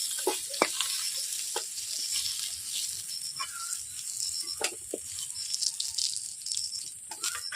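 Pieces of king crab fry in a pan, a soft, fairly quiet sizzle punctuated by scattered rattling clicks and light knocks as the pieces shift.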